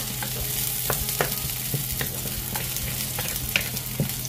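Chicken for adobong manok fries with a steady close sizzle, and a utensil scrapes the pan in regular stirring strokes, with no voices over it.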